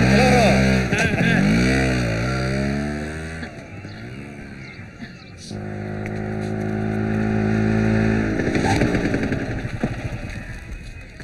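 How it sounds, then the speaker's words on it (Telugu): An auto rickshaw engine runs steadily throughout, its pitch rising and falling as it drives, with voices talking over it. "ఏంటి కుమారు కొత్త ఆటోనా"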